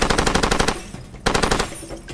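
Automatic gunfire in the jungle shooter Far Cry 2 comes in two rapid bursts of evenly spaced shots, loud and close, with a short pause between them.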